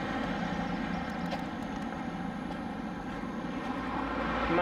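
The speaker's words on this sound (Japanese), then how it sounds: "まあ車のね、通りが結構激しい。" Heavy street traffic in central Vientiane, Laos, forms a continuous rumble of passing engines that swells slightly toward the end.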